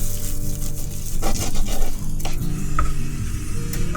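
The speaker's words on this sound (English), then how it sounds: "don't you just love the smell of that sizzling lamb?" Lamb sizzling in a pan over a camp stove by a river, a steady frying hiss with scraping stirs and clinks of utensil against the pan, close and continuous with no talk.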